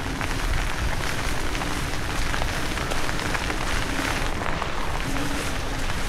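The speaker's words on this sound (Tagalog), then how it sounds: "walang tigil ang ulan" Steady, heavy rain pours down without a break, a dense hiss of drops striking surfaces nearby, with no voices.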